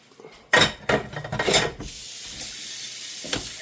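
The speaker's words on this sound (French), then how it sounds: "je vais venir me prendre mon assiette" A plate being taken from a stack with dishes clattering: a burst of close clinks and knocks over about a second, then a soft hiss and one more faint knock.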